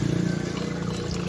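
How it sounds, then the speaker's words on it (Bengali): Fresh coconut water pours from a green coconut into a container at an Indonesian street food stall, a steady close splashing trickle with no talking. "এখন এই ডাবের পানিটা একটা পাত্রের মধ্যে রাখবে"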